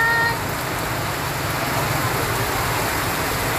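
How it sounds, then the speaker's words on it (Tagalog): Heavy rain pours during a storm, a dense, steady broadband hiss of downpour that stays loud and constant throughout with no voices. "Umpisa na sila sa lakas ng ulan."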